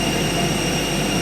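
Steady, loud roar of a Himalayan Airlines airplane's jet engines, a continuous broadband hum with a sustained whine and no break.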